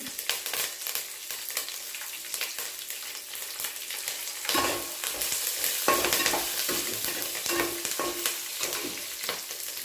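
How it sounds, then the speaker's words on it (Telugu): Green chillies and curry leaves frying in oil over lowered heat for a gongura tempered rice, with continuous sizzling and repeated close scraping stirs that grow busier midway. "స్టవ్ కొంచెం తగ్గించుకొని పచ్చిమిర్చి కరివేపాకు కూడా వేసి కలపాలి"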